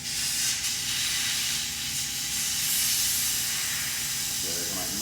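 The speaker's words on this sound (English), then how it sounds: "Going to remove that valve core out of there." Air rushing out of an electric scooter tyre valve as the core is pulled, a loud continuous hiss held steady for the whole stretch, close to the microphone.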